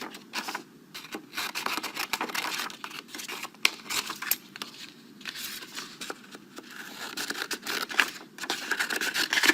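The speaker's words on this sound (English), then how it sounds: "very carefully cut along that line that you drew, cutting those pieces apart" Scissors snip through paper pieces along a drawn line in a children's art lesson, a close run of crisp, uneven cuts and rustles with no one talking.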